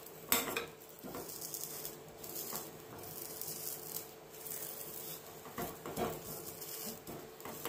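Soft crackling and faint sizzling as karpooravalli (Indian borage) leaves heat in a hot kadai pan, with occasional clinks of metal utensils against cookware, steady and close.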